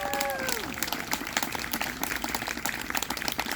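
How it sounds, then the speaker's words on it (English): At a school band awards ceremony, an audience applauds the band's teaching assistants with brief, busy clapping from a crowd, a few sustained instrument-like tones sliding away at the start. "A round of applause for our TAs, Parker Drumheller and Hannah Cundiff."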